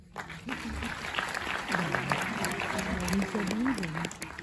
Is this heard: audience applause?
yes